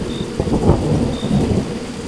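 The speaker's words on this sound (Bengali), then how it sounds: "তার উপর ঝমঝম করে বৃষ্টি পড়ছে" Heavy night rain with thunder: a loud rumbling roll over dense pouring rain, brief and close, with no talking.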